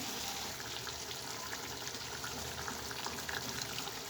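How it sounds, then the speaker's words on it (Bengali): Boiling hot water poured steadily into a pan of frying beef masala, a continuous gushing, hissing pour that lasts throughout without any speech. "এখন আমি একটু পানি ঢেলে দেবো গরম পানি"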